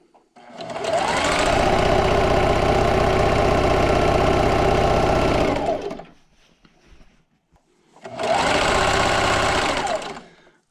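A sewing machine stitches quilt strips for a scrappy strip quilt, running in a long steady loud whir for about five seconds, stopping briefly, then running again in a shorter burst.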